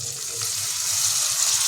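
Chopped tomato and boiled chickpeas fry in a kadai, giving a short, steady hiss of close sizzling with a faint low rumble underneath.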